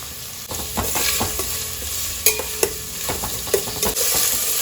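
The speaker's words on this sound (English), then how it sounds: "now we are going to add in the onions which we have chopped fine, and fry them till they are nice and golden" Finely chopped onions fry in hot oil for an eggplant and dried prawn coconut curry, giving a steady close sizzle broken by several sharp scraping stirs of a spoon, with no voices.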